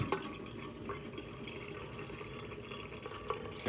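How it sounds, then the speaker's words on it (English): Water runs from a kitchen sink tap into a pot in a steady, faint splashing stream, with a few small drips and clinks along the way. "Get it in the sink, put some water."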